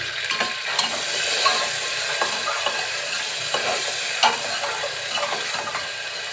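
Garlic paste and spices sizzle steadily in hot oil while being stirred for a prawn and yam curry, a continuous close frying hiss broken by occasional scraping stirs, with no voices.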